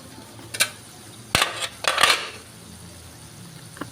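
A metal lid set onto a cooking pot of ginataang sitaw at kalabasa, heard as a few close metallic clinks and clatters spread across the first half of the clip in a quiet kitchen.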